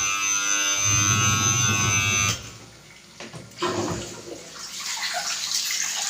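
Water being drained while clothes are washed in a machine, first a loud humming motor and rushing water, then a pause and a renewed steady gush of flowing water.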